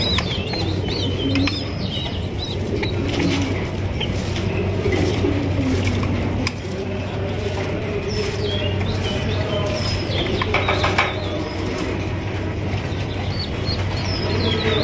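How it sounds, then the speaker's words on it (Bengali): Pigeons coo close by, soft repeated throaty calls overlapping one another, with occasional chirps and wing flutters over a steady low background hum. "এই মুহূর্তে আমি কবুতরের খুব কাছাকাছি অবস্থানে আছি"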